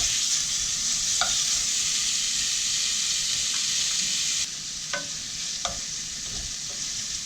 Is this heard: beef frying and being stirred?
yes